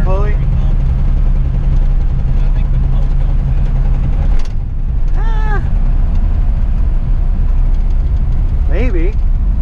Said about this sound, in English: So there's some kind of engine noise happening, and we're not sure what